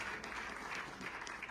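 Audience applauding speakers at an earthquake engineering conference, a brief burst of soft, somewhat distant clapping with a few individual claps standing out.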